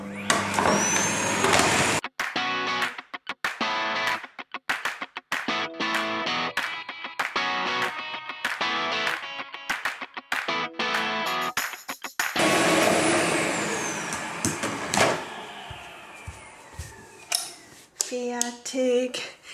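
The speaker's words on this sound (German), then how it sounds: "Ich liebe ja das Geräusch vom Staubsauger." A vacuum cleaner runs in uneven stretches, its whine cutting in and out with rattling, crackling bursts as it picks up debris.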